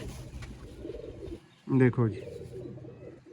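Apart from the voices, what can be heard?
pigeons cooing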